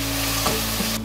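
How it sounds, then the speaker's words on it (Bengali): Spices stir-fried in oil for a mixed-vegetable sabzi sizzle steadily and close up, with a brief scrape of stirring partway through and no talk. "এই মশলাগুলো খুব ভালোভাবে কষিয়ে নিতে হবে, আর একটু ঘন ঘন নেড়ে চেড়ে যেতে হবে।"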